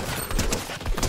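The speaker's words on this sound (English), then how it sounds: "Oh, yeah, gunshot south." Gunshots in the Fortnite video game, a quick burst of several cracking shots close together, fairly loud with no talk over them.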